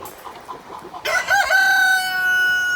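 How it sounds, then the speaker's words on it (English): Roosters and chickens, including a Buff Orpington, crow and cluck after a fight among the birds; soft clucks lead into a loud, drawn-out crow that holds on clear, close and alone. "We had a little rooster fight."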